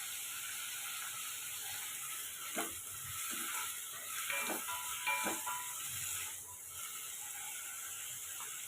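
Potato pieces sautéing with salt in a hot pan give a steady sizzle and hiss, broken by a few scraping stirs and clicks of the spatula, close by.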